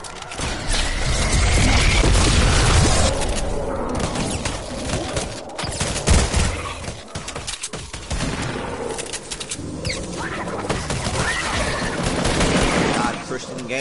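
Rapid bursts of video-game gunfire and automatic weapons fire, with booms, crackle through a multiplayer shootout while players talk over the action.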